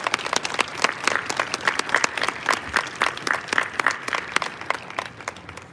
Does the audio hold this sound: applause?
yes